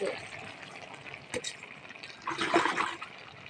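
Water splashes and trickles into a pan of sautéed bottle gourd greens in a brief, fairly quiet pour, with faint clatter around it.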